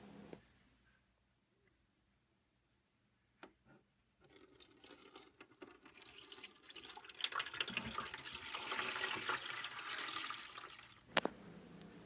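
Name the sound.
water pouring into toy pool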